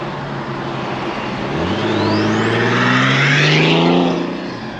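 Boosted Infiniti Q50 Red Sport engine pulls hard under acceleration, its loud rising drone climbing in pitch with a thin turbo spool whistle sweeping upward over the roar, swelling toward the end before easing off.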